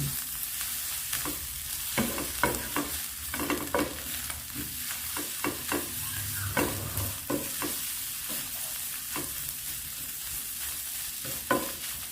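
Papaya and egg stir-frying in a pan, with a steady soft sizzle under repeated clanks and scrapes of a spatula stirring throughout, close and fairly quiet.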